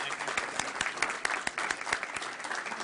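Audience applause at a school Board of Education meeting, a steady patter of many hands clapping with crisp individual claps standing out, moderately loud and continuous with no talk.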